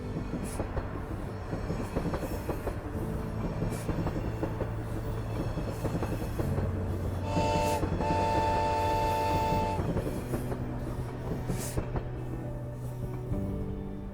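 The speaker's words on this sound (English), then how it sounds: "When the sound of iron wheels rings out on the old rails" A train rolls steadily on its rails with a continuous metallic rumble, and a drawn-out tonal squeal or horn rises briefly in the middle.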